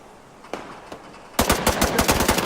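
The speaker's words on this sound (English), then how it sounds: "The sound of this gun is awesome." Gunfire from a weapon in the video game The Division 2, with two isolated shots followed by a loud, rapid automatic burst of closely spaced cracks.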